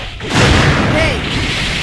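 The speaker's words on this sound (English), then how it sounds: "I'm shooting." Shots fire in the arcade fighting game Hyper Dragon Ball Z as one loud, booming blast swells and rumbles on, heavy and close, mixed in with the game's other sound.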